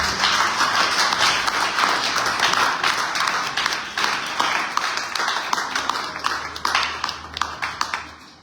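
A church congregation claps steadily throughout, a dense wash of applause filling the room with scattered sharper claps near the end.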